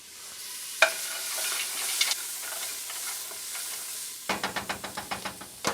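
Cashews are stirred into onions frying in a pan for vegan chili, giving a soft steady sizzle with a spoon scraping, then a run of quick rhythmic clacks near the end.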